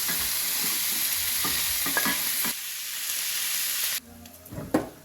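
Diced bacon frying in a pot as the base for corn chowder, a loud continuous sizzle with a few scraping stirs, then the sizzle drops and quieter spoon clatter follows.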